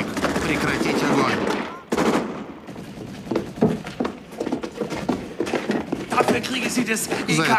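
Gunfire in a Stalingrad war film, a burst of heavy rapid shots followed by scattered loud bangs and thuds mixed with shouting voices.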